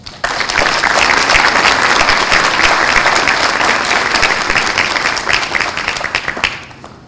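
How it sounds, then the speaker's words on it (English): Sustained applause from the audience at a celebration breakfast, a dense, loud wash of many hands clapping together that holds steady for several seconds before tapering off at the end. "Can we get one more round of applause for a hero of mine, Kathleen Klink, everybody."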